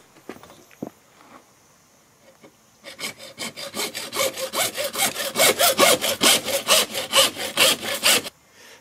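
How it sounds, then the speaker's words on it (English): Hacksaw cutting through a short piece of PVC pipe: after a few soft handling knocks, steady close rhythmic back-and-forth strokes run for about five seconds, growing louder, then stop. "And we simply cut this with a hacksaw."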